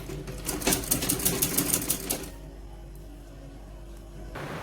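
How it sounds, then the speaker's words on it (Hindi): A sewing machine runs in a steady, rapid stitching rhythm on baby frock fabric for about two seconds, then stops, leaving a low background hum. "अब हम इसको उल्टे कपड़े पे सिलाई लगा लेंगे और इसको फिनिशिंग दे देंगे।"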